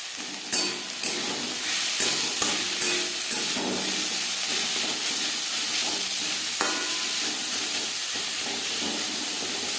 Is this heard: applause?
no